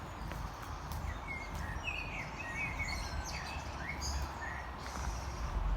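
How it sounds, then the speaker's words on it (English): Birds chirp and trill in short bursts beside a canal on a walk toward town, over a constant low rumble of distant traffic. "Listen to them birds."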